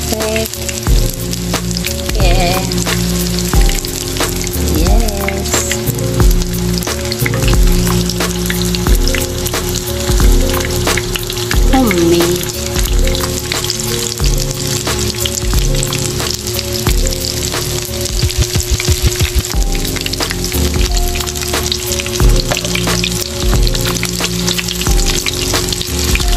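Okoy, anchovy fritters, frying in oil, a loud, continuous crackling sizzle with dense popping throughout and no talking.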